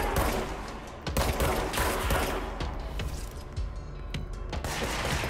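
Dense, sustained gunfire from the action video game Control, with loud rapid shots crackling over a rumbling game soundscape and no talk.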